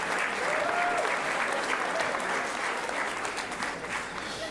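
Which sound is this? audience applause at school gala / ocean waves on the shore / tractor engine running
audience applause at school gala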